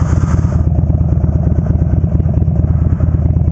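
A Buell motorcycle engine pulses with a steady, loud, close mechanical throb while being ridden, holding an even rhythm with no voices over it.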